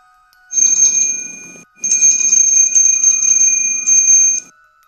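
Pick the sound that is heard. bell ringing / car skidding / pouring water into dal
bell ringing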